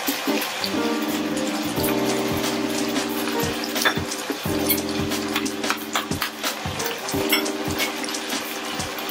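Water splashes into a hot pan of palm sugar, making a steady sizzling, bubbling wash that holds fairly loud and close throughout, with a faint tonal hum running underneath.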